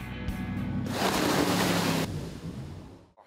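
Loud rushing water and spray from a jet boat driven by a 6-litre, 450-horsepower Chevrolet engine coupled to a jet unit, with the surge swelling, then fading to a softer wash before cutting out.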